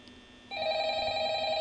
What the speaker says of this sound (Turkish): Yine telefon çalıyor.